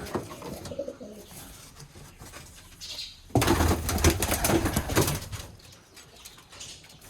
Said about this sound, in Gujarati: આ કબૂતર આવ્યા છે ઓ ભાઈ સાહેબ જોરદાર છે